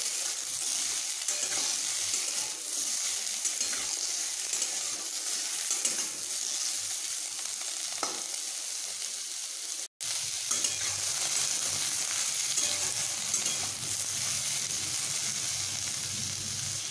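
Potatoes and bitter gourd frying together in a pan, a loud continuous sizzle with stirring throughout and a brief break partway through.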